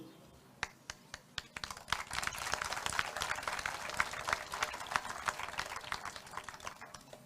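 Audience applause at a political rally speech in Armenia, starting as a few scattered claps, then swelling into dense, sustained clapping from a sizeable crowd, heard at a moderate distance.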